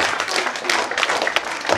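A group applauds at an announcement session of a youth football camp, with a dense, fairly loud run of clapping that carries on steadily without pause.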